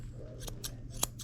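Grooming scissors snipping an older dog's hair, with several quick, crisp metallic snips close by against a steady low background hum.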